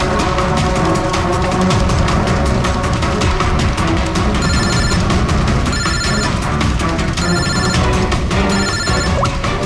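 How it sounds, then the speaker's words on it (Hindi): A telephone rings insistently in a repeating electronic bell pattern, loud and continuous over a busy, noisy background with no talk heard. "फोन आ रहा है दादा।"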